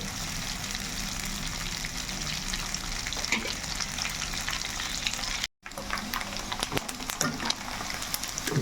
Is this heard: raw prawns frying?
yes